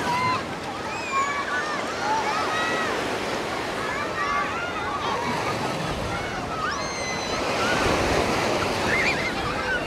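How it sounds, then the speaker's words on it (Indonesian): Ocean surf at Sanur beach, Bali, rougher than usual, rolling and breaking continuously, a loud, close wash of water with hissing foam and a steady roar. "ombak pada hari ini lumayan kenceng aku lihat daripada biasanya"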